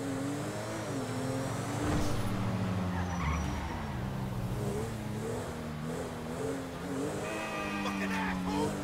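A car in the video game GTA drives and revs with a steady, shifting engine drone and occasional tire noise, heard under people talking.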